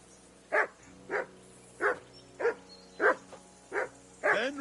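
In Kingdom Come: Deliverance 2, a dog barks seven times at a regular pace, loud and close, with low background ambience behind it.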